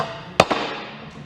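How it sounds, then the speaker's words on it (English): A single sharp metallic strike of a hammer on a center punch against a steel Peterbilt 352 cabover truck frame, with a quick second tap and a ringing decay. "I'm just going to center punch these"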